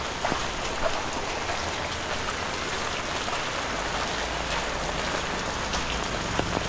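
Steady rain falls at night on a flooded road, a dense, even hiss of drops pattering on wet surfaces throughout, fairly close and constant with no voices.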